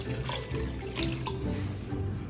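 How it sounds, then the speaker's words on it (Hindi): Water pours continuously into a pot of strained tomato soup, a steady close splashing and gurgling that fills the whole stretch with no talk over it. "इसमें मैं 1 कप पानी और शामिल कर रही हूँ।"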